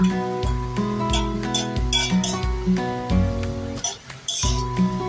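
Carrot and beetroot being stirred and sautéed in a pan, with a spoon clinking repeatedly against the metal in a steady rhythm over a faint sizzle, close and fairly loud, without talking.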